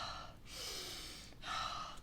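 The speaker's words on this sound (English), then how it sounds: "there's also kind of more of a faster breath in and out" Fast breathing in and out as part of a regulating breathwork practice, two close, breathy rushes of air with a short pause between them, near and fairly soft.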